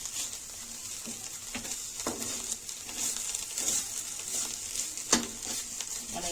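Masala and turmeric roast in a hot pan for a bhogichi bhaji, giving a soft continuous sizzle broken by scattered scrapes and taps of a spoon as the spices are stirred, one sharper knock near the end.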